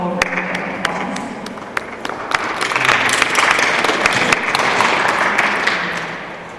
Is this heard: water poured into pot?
no